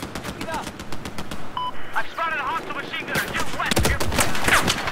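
Machine gun fire in the video game Battlefield 4, during an Operation Locker close-quarters match: dense bursts of rapid gunfire crackle steadily under players talking over voice chat.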